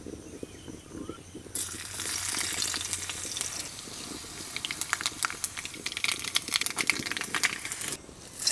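Rasam tempering sizzling in hot oil: a low boil gives way to a loud, crackling sizzle that runs continuously and close, with sharp pops scattered throughout and no talking.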